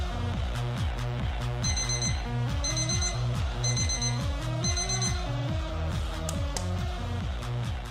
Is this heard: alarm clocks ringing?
yes